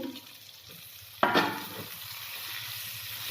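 Pigeon meat sizzles in a pan as fried potatoes go in and get stirred, a sudden scrape and splash of hot oil rising over a quiet background of frying.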